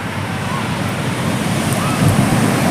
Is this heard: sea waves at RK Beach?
yes